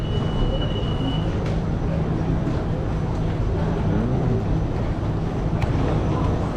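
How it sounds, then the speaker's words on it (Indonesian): An underground MRT metro train in Malaysia runs with a loud, continuous rumbling roar and rattle of wheels on track, heard up close from the station or inside the car throughout. "Oke, jadi kita udah sampai. LRT-nya udah sampai, MRT-nya udah sampai ya."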